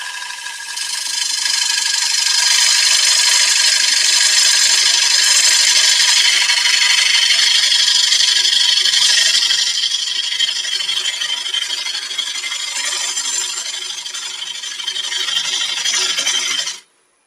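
A woodturning gouge cuts wood spinning on a lathe, making a loud, continuous, hissing scrape that holds steady for about fifteen seconds before stopping abruptly, with no talk.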